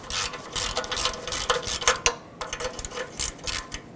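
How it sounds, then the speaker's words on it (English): A hand ratchet with a 14mm socket loosens a rusty catalytic converter bolt on a 2013-2020 Nissan Pathfinder, giving a close, brisk run of rapid clicking strokes that pulses steadily throughout. "Use a 14mm socket"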